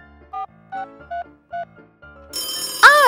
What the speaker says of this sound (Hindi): टेलीफोन बज रहा है।